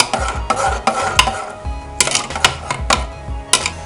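Salt being stirred into cooked Kerala dal curry makes a loud, close series of rhythmic scraping and knocking strokes of a spoon against the pot, repeating about every half second, with no voices.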